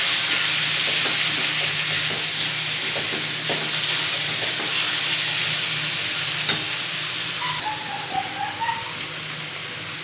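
Tenderized beef frying in a pan while being stirred, a steady loud sizzle with scraping stir strokes and small clatters, close up, running the whole time with no talk.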